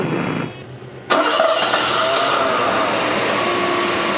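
Rebuilt 1987 Mercedes 560SL engine: an initial fan-like whir drops off, then the engine cranks and catches with a sudden burst, settling into a loud, steady idle that runs on to the end, heard close with no talk.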